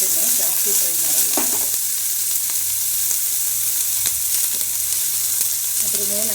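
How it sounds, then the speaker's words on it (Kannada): Onion fries lightly in a spoonful of ghee, a constant close hiss of sizzling with a few scraping stirs and knocks of a spoon against the pan. "ಒಂದು ಸ್ಪೂನಷ್ಟು ಸೋಮ್ ಫೇವ್ರೆಟ್ ತುಪ್ಪ, ಹಾಗೆ ಆನಿಯನ್ ಲೈಟಾಗಿ ಫ್ರೈ ಮಾಡ್ತೀನಿ ಅಷ್ಟೇ"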